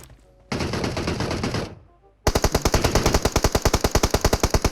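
Automatic weapon fire in the mobile battle-royale game PUBG Mobile: one sustained burst, a short pause, then a loud rapid string of evenly spaced shots, close and dominant with no talk.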